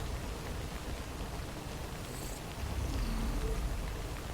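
Steady rainfall in the video game Death Stranding, a continuous soft wash of falling rain with a low rumbling bed and a slightly louder stretch near the end, no talking.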